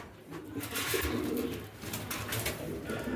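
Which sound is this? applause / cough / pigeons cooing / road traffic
pigeons cooing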